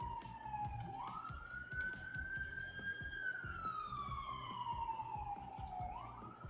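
A wailing emergency-vehicle siren rises and falls in long, slow sweeps at moderate distance, sounding steadily across the whole stretch over a low background rumble.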